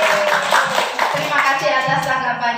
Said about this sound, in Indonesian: Tepuk tangan buat Bu Dwi.